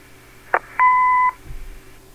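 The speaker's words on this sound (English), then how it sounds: "Leave a message after the beep." An answering machine in the video game Kathy Rain gives a short click followed by a single clear electronic beep lasting about half a second, then a faint thump.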